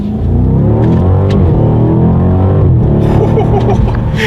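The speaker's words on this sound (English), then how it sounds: "Let's test out the paddle shifters." A 2018 BMW M550i xDrive accelerates hard, its engine note climbing in rising harmonic sweeps that break at quick paddle-shift upshifts, loud and close from inside the cabin.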